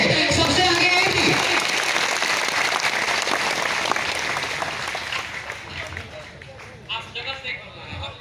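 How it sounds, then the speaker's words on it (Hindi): A crowd at a justice rally applauds loudly, a thick wash of clapping that gradually thins and fades, with voices talking near the end. "तालियां होनी चाहिए।"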